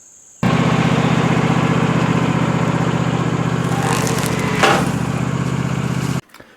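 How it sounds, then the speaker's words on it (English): A lawn tractor engine runs at a steady, loud drone close by in a yard while being used to pull out a tree, starting abruptly and cutting off near the end with no talking. "I should be able to pull it out cleanly just using my lawn tractor here."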